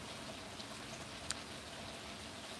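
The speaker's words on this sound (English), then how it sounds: "it's pouring rain right now" Heavy rain pours outdoors beside a fire pit, a steady, dense hiss of drops on surfaces that continues without a break, with no talking.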